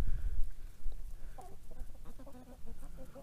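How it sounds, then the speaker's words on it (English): Farmyard chickens cluck in a loose, irregular series of short calls, close by, over low rumbling background noise outdoors at feeding time. "the chickens are more interested in the food today than they were yesterday"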